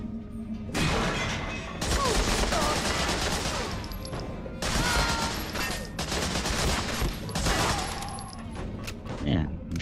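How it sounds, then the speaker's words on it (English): Sustained gunfire from the video game Medal of Honor Frontline on PS2, dense bursts of shots and impacts filling a corridor fight, loud and continuous with brief lulls, with a voice talking underneath. "Man, I'm shooting down a corridor."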